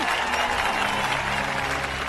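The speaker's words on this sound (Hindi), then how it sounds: "ताली बजाओ ताली।" Dense crowd clapping at a public gathering on farmers and agriculture, a steady wash of applause lasting throughout at fairly strong level.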